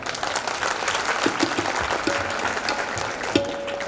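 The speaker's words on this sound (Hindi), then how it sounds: "बजेगी तालियां ढेर सारी" Audience applause at a school cultural program, a steady wash of many hands clapping throughout, fairly loud and continuous with brief faint tones over it.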